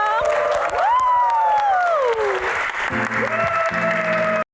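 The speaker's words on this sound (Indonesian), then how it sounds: "Tepuk tangan dong" A television studio audience at a music talk show claps and cheers, with whoops rising over the applause and a sung or shouted voice gliding above it before the sound cuts off abruptly.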